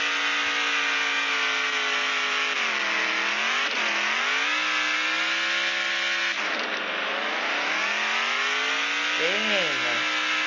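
An offroad truck in the video game Offroad Outlaws, its engine droning steadily and revving up and down as it drives across a desert map, with a player talking over it.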